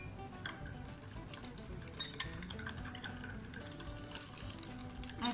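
A spoon stirs salt into water in a glass beaker, making quiet, rapid tinkling clinks against the glass that keep going throughout, faint and close.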